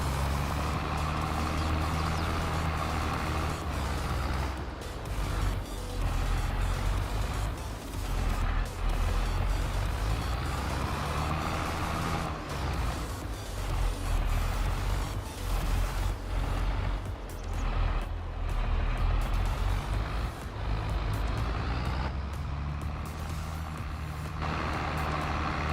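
A tractor in Farming Simulator 22 drives steadily on its way back to collect round bales, with a continuous low engine drone and rumble that fills the scene evenly, no voices.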